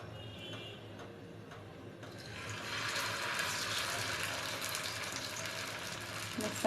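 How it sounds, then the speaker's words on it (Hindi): Potato seekh kebabs shallow-fry in a little oil in a pan, a faint crackle at first that swells after a couple of seconds into a steady, soft sizzle, close and continuous. "मैं सारे आलू के सीख कबाब को इस तरह से फ्राई कर लूँगी।"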